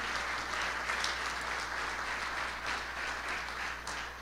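A church congregation claps in steady, sustained applause for a few seconds at moderate volume, a dense wash of hands with no clear talking over it.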